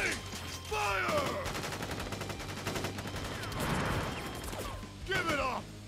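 Soldiers' rifle volley in Final Fantasy 7 Crisis Core, rapid bursts of gunfire rattling for several seconds, loud and dense, mixed with metallic clanks and game effects.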